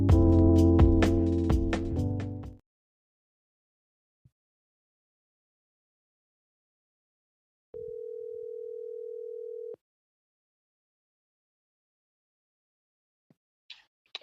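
Telephone tone while placing a call to a podcast guest: a music chord fades out, then after a silence a single steady tone sounds for about two seconds before quiet returns.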